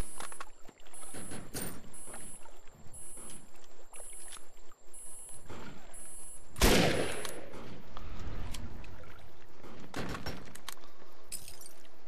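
Gunfire rattles at the player in the Defiance video game, a scatter of sharp shots and short bursts, one much louder crack near the middle, amid ongoing game noise.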